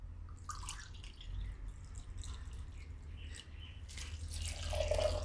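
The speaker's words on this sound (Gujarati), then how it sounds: "હજી આપણે આમાં પાણી નાખીને હજી એકવાર ફેરવી લેવું." One cup of water trickles and splashes into a coconut mixture, a steady liquid pour that swells louder toward the end, over a low background hum.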